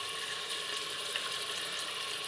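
Onions and tomatoes sauté in a pan with a steady, even sizzle that stays at a moderate level throughout, with no voices over it.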